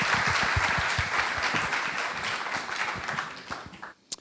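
Applause for the last trio of panelists at a conscious leadership and ethics summit, dense clapping from a sizable crowd that holds steady and then thins out and stops by the end.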